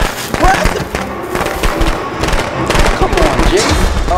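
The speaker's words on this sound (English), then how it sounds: "And you still got hit by the firecrackers?" Firecrackers go off in the Friday the 13th video game, a rapid crackling string of pops and thuds filling the moment while players talk over the noise.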